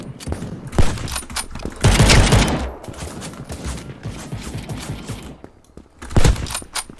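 Gunfire from a BO3 Locus sniper rifle in the browser shooter Krunker comes through as sharp cracks and booms. Busy game noise and mechanical clicks sit between the shots.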